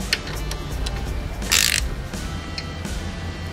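A bolt is being removed from a Harley-Davidson Road Glide during a highway-peg install, with steady ratcheting clicks and metallic mechanism noise up close, plus one brighter burst of louder rattling partway through.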